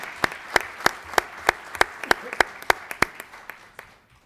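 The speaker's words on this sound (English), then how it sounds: "Please give her a hand. Applause." A small group claps at a school district board meeting after an employee is invited up to be honoured, about a dozen sharp, evenly spaced claps over four seconds with no voices over them.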